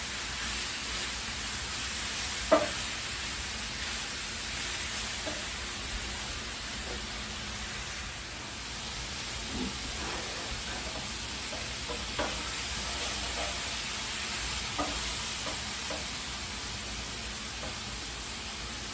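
Mushrooms sizzle in a pan for Thai basil chicken, a quiet, steady frying hiss close by with a few soft stirring clinks, and no talk over it.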